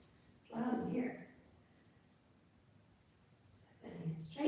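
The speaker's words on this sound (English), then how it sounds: "I hear a cricket. Somebody else hear that? That's pretty loud." A cricket chirps loudly indoors, a steady high-pitched trill that runs unbroken throughout while a person talks over it in two short bursts.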